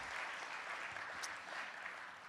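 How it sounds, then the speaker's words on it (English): Steady applause from an audience fills the whole stretch, a dense wash of clapping without pauses, heard from a little distance. "Let's give them a big round of applause for being part of our audience."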